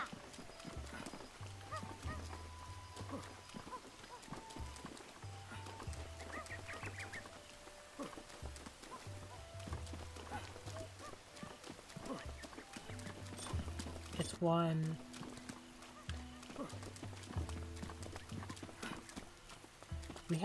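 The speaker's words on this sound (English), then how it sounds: "We have a horse now," Horse hooves clip-clop steadily in Zelda Breath of the Wild, with game music and occasional bird-like calls, a short sparkling chime partway through, no talk.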